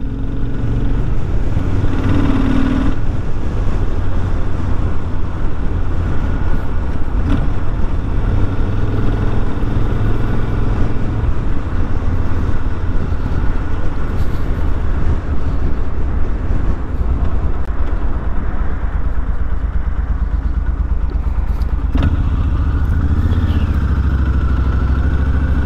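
A Kawasaki VN1500 chopper motorcycle rumbles on a ride, with a loud, continuous low engine drone and steady rushing wind. The throttle swells now and then, and no voices are heard.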